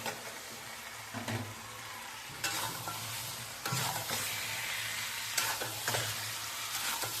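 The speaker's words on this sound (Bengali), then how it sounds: "এবার মাংসটা দিয়ে মাংসটা কষবো" Chicken pieces fry with spices in a pan, a continuous sizzle broken by several loud scraping strokes of a spatula stirring the meat, close and clear.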